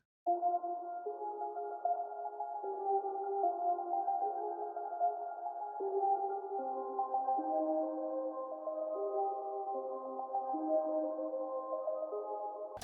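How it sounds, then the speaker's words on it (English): A simple dark bell counter melody from a trap-style beat, with soft mellow tones stepping through a slow repeating pattern, playing alone and steadily throughout. "Then we just got a simple dark bell counter melody."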